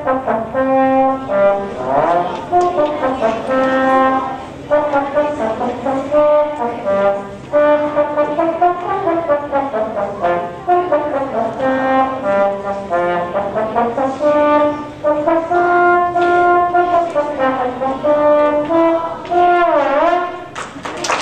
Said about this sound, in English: this is the sound of the trombone.